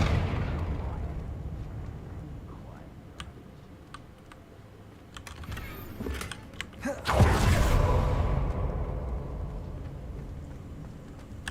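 A fiery blast from a Confringo spell in a Harry Potter-style video game, a rumbling whoosh that swells after some light clicks and ticks, then fades over a few seconds.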